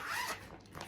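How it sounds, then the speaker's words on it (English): A short, close clothing zipper pull, a quick rasping zip lasting under a second. "I apologise for the zip noise"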